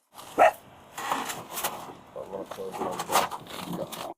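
A dog gives a single sharp bark near the start, loud and close, followed by voices talking amid shuffling and rustling.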